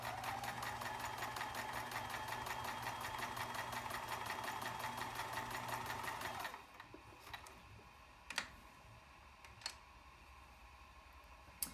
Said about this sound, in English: I'll just show you how quickly this machine can run. Very nice and fast